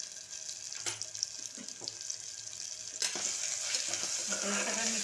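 Spices with tomato and ginger fry and sizzle in a pan for prawn curry, a steady close hiss broken by a few sharp stirring scrapes, growing louder toward the end.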